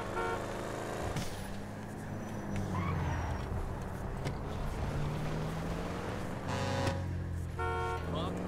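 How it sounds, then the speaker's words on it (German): A steady car engine drone in the video game GTA V with a brief horn blast near the start and a pair of short tonal honks toward the end, with voices talking over it. "Kann auch hupen."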